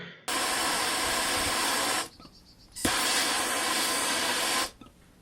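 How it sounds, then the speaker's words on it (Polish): A gas torch burner used to ignite magnesium gives two long, loud, steady roaring hisses, each lasting about two seconds, with a brief quiet gap between them and no talking. "Używam tu do podpalenia palnika."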